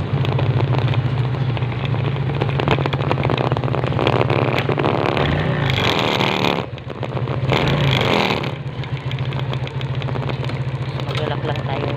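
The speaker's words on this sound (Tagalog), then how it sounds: "Babarang natin ang motor." A motorcycle engine runs close by with a steady idle that swells into louder revs twice before settling, while voices talk over it.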